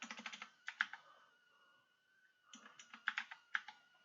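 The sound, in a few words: typing on a computer keyboard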